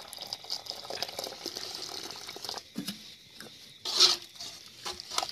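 Hot water is poured into a pot of mashed elephant apple and fish head, giving close, intermittent splashing and trickling with short pauses and a louder gush near the end.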